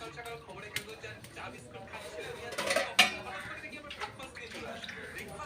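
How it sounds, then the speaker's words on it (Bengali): A cooking pot for biryani is set onto a stove with a sharp metallic clank amid lighter kitchen clinks and rattles, while a voice speaks in the background. "বিরিয়ানির জন্য আমি হাঁড়িটা বসিয়ে দিচ্ছি"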